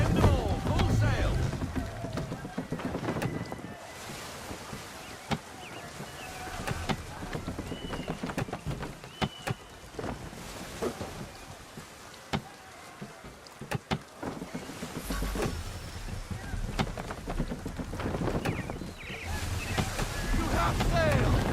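A sailing ship runs under full sail in Assassin's Creed 3, with steady wind rush and water wash throughout and voices talking over it.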